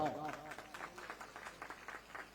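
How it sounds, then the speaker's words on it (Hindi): A crowd at a large state-level community convention claps to welcome the chief minister, heard faint and distant as a run of quick, roughly even beats after a brief voice at the start. "तो जोरदार अब सब पहुना बन के स्वागत में जोरदार ताली बजाओ।"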